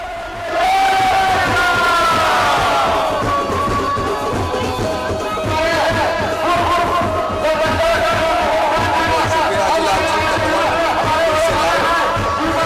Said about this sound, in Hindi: सुबह से ही लोगों की भीड़ यहाँ पे लगी हुई है